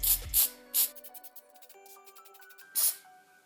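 Short bursts of lacquer from a spray can over a custom fingerboard graphic, three distinct hissing sprays separated by pauses, close and crisp, with faint clicking and ticking between them.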